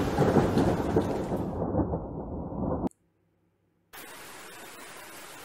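A lightning strike with rain in the game Who am I?, a loud crackling thunder burst over heavy rain that cuts to dead silence, then quieter steady rain resumes.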